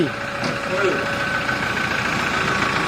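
A Toyota pickup's 3.0 D4D diesel engine runs at a steady, close idle with a rough clattering tone while people talk nearby.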